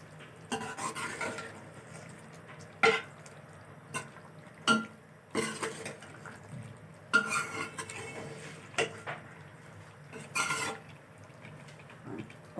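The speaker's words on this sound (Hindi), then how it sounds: "और इसको अच्छी तरह हम मिक्स करेंगे" Fried potatoes and capsicum with ajwain and kalonji are stirred together in a pan for an achari aloo dish, a spoon scraping and clanking against the metal in repeated bursts, close and alone with no talk.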